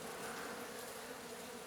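Bees swarm around a rescued giant nest at a château, producing a steady, dense buzzing drone that fills the air continuously without pause.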